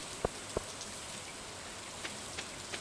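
Steady rain falls in the Stardew Valley video game as an even, soft hiss, with a few sharper drip or tap sounds standing out near the start.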